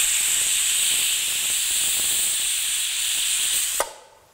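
A loud, continuous high-pitched steam hiss from a pressure cooker whistle venting while cooking mutton curry holds steady before cutting off abruptly near the end.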